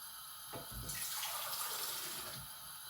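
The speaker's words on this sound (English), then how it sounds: "I may add a little bit more water actually." Water runs steadily from a tap into a pot holding a rusty tin, used for boiling eco-printed paper, a continuous splashing pour at close range with no talking.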